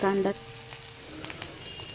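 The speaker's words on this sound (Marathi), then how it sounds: "कांदा लालसर तळून घेतला की त्याच्यामध्ये मिरची" After a brief voice, sliced onion and green chili fry in a pan for a potato dish, a soft, continuous sizzle with scattered crackles, close and faint.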